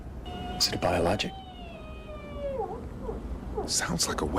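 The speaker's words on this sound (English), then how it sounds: "Sounds like a whale." A whale call picked up on sonar in a submarine video game: a few drawn-out, wavering tonal moans that slide downward, with crew voices talking around them.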